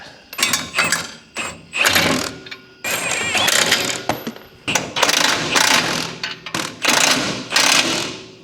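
Socket wrench tightening bolts on a vehicle's steering setup and rear frame, with rapid loud ratcheting bursts repeated in short strokes, close up and without talk.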